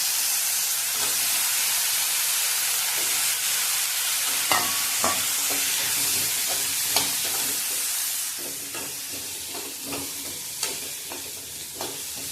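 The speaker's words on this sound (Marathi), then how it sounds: "आता ह्यात आपण बटाटे धुवून घेतले होते सालीसकट ते टाकून घ्यायचे।" Washed, unpeeled potatoes go into hot oil for an eggplant and potato curry, raising a steady loud hiss of frying with occasional clinks and stirring scrapes over the sizzle.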